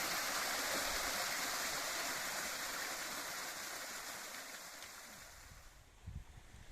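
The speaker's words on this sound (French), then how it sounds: "c'est une mini cascade, un bébé cascade" A small waterfall on a hiking trail in the Cantal rushes in a steady, hissing wash of water, fairly close and continuous, easing slightly toward the end with a few soft knocks.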